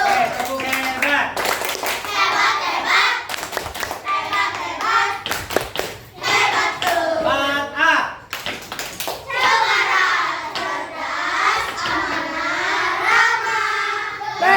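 A group of Indonesian schoolchildren clapping in rhythmic patterns while chanting along together in class, loud and close, with the claps mixed into their singing voices.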